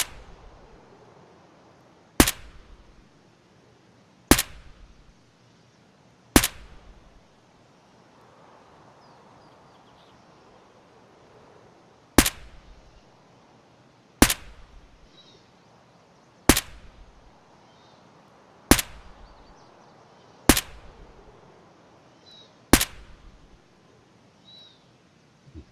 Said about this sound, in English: I fired those rounds in here, aimed at that line there.